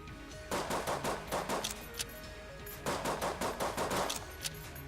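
Two bursts of rapid gunfire from Enter the Gungeon, each a quick string of sharp video-game shots lasting over a second, with a short pause between them, loud and close with no talking.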